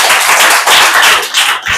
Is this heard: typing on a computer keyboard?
no